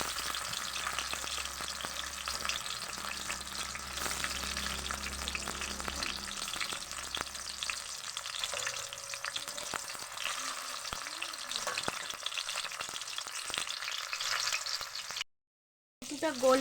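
Chopped tomato frying in a pan with green chili and whole cumin: a steady, close sizzle with scattered crackles and stirring scrapes, briefly cutting to silence near the end before the sizzling returns.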